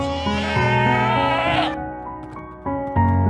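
In the Minecraft video game, a screaming goat lets out a long, shrill, rising bleat, followed by a pause and then two shorter, lower bleats, all loud and close.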